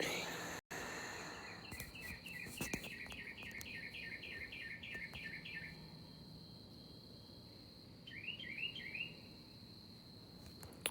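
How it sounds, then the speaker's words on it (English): A steady high insect trill fills the night air while short bursts of rapid chirping come and go, first a long run, then a brief one later. "You hear the birds chirping at night here."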